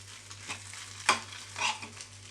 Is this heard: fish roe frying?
yes